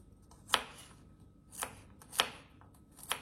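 Knife chopping garlic cloves on a cutting board in a kitchen, four separate sharp close taps spaced unevenly in otherwise quiet surroundings.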